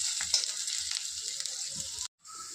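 A mixture of small lentils sizzles in a frying pan while being stirred, a close crackling hiss with scraping stir strokes, cutting off abruptly near the end.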